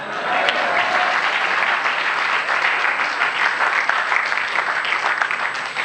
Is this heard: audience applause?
yes